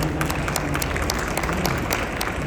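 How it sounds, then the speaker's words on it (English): Audience applause at a Women in Tech in Saudi Arabia panel, a short, steady burst of many hands clapping that stays constant throughout. "Please, let's give them a round of applause."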